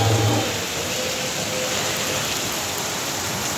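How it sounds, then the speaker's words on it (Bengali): Steady heavy rain pours down in a Bangladeshi village, a dense close hiss of drops on surfaces with a brief low rumble at the start. "মুষলধারে বৃষ্টি, মুষলধারে বৃষ্টি না, মিষ্টি বৃষ্টি।"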